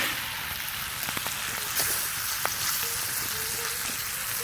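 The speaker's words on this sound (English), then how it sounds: "We'll get this cooked first. Pretty fatty bacon." Fatty bacon frying in a pan over an outdoor campfire, a steady close crackling sizzle with scattered pops and small clinks throughout, no talking.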